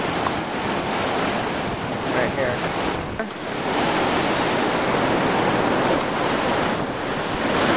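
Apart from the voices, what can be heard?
ocean waves rushing in over rocks at Laguna Beach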